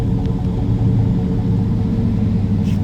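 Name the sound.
Chevrolet Silverado pickup truck engine running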